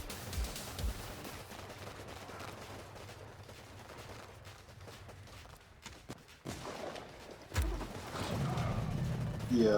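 Gunfire in the Warpips strategy game: scattered distant shots and crackling bursts through a busy battle din, with a sharp loud crack near the end followed by heavier rumbling, faint talk underneath.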